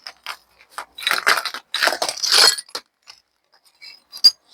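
Dark broken glass shards scattered across the floor of an old terrace crunch and clink in short scattered bursts, with a few bright isolated tinkles and quiet gaps between.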